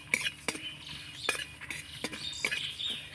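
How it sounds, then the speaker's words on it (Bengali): Coriander, cumin and dried chillies dry roasting in a pan, stirred with a utensil; sharp scraping and clinking strokes repeat at a steady rhythm, close and fairly soft. "শুকনো খোলায় একটু মশলাটা নাড়াচাড়া করে ভেজে নেব হালকা আছে।"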